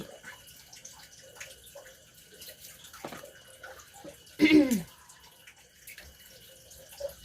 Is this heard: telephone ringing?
no